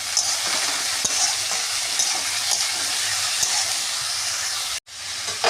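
Jackfruit seeds and potatoes being stirred and fried in a pan with a little turmeric and salt, giving a steady close sizzle and hiss with faint scraping stir strokes, cut off briefly near the end.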